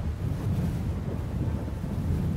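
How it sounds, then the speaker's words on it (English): Strong hurricane wind in the Roblox game ERLC Liberty County roars and buffets in low, rumbling gusts, steady throughout with no voices. "it's getting really windy"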